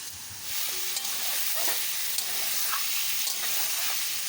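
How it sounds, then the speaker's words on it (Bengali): Marinated chicken fries in oil tempered with cardamom, cinnamon and bay leaf, producing a steady, bright, close sizzle that swells after a quieter start and holds evenly, with no talking. "এদিকে মাংসটা ভাজা হতে থাক"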